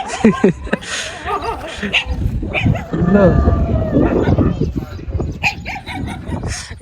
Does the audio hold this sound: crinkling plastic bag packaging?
no